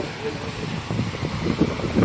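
Strong wind roars and buffets the microphone in a continuous rushing blast, with a high, rough sea churning below and no clear speech.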